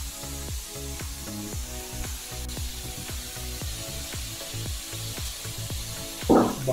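Jamón serrano sizzles in a pan with a steady spattering hiss, while a regular rhythmic scraping or tapping pulse repeats underneath. The sound stays moderate and close throughout.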